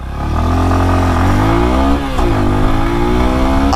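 A Bajaj Pulsar N125 motorcycle engine revs up loud and close, pitch climbing steadily, briefly dropping, then rising again in a sustained mechanical drone.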